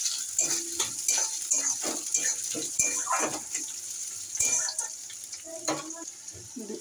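Chopped onion going into hot mustard oil in a wok, soft sizzling under repeated stirring clinks and scrapes of a spatula, fairly quiet and close.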